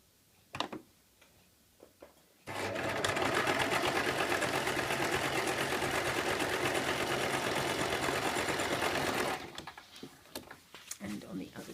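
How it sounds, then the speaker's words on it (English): A sewing machine runs a steady zigzag stitch along the raw edges of a fabric circle skirt, one continuous loud burst of about seven seconds with quieter handling clicks before and after. "I'm going to zigzag my raw edges so that will at least inhibit the fraying."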